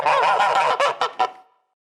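A person imitates a wild goose, a run of nasal honking calls that breaks into several short honks before stopping, close and loud.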